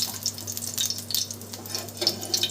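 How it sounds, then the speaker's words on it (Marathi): Green chillies frying in oil crackle and sputter in scattered bright pops over a low steady hum, close and fairly quiet. "दोन तीन मिरच्या तळून घेतल्या हिरवी मिरची"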